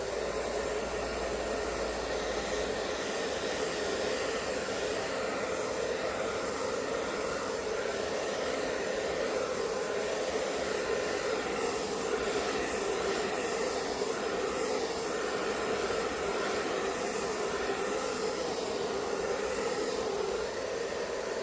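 A hair dryer blows steadily on acrylic pour paint, giving a loud, continuous whooshing roar with a constant motor hum that holds unchanged from start to finish, no voices over it.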